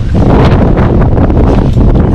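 Steady wind roars across the deck of an Elan 444 sailboat in 21-knot beam winds off Croatia, a loud, unbroken rushing gust that buffets close to the microphone with no voices.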